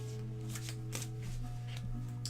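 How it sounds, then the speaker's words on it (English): Tarot cards being shuffled by hand, a soft, close riffling and flicking of card edges with a few brief bursts over a steady low hum. "Now I've reshuffled those cards for next time"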